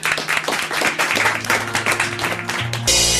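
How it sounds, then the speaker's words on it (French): A studio audience applauds on a French television talk show, a dense, loud burst of clapping lasting a few seconds before a sudden change of sound at the end. "Bravo, merci, on vous applaudit."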